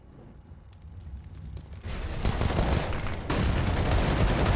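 Gunfire echoes in a Counter-Strike match on the Overpass map. Faint at first, it swells into dense, loud bursts of rapid shots that continue without speech.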